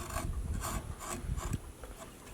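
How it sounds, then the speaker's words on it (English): A small gouge carves cottonwood bark in rapid scraping strokes, a rough, close, quiet series of woody scrapes and rubs with an irregular rhythm. "carve that off, go with a smaller gouge"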